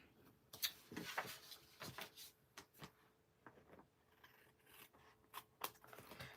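Scissors snip through fabric scraps for a quilted Christmas card, giving several quiet, close, crisp cuts and rustles spaced a second or so apart, with no talk.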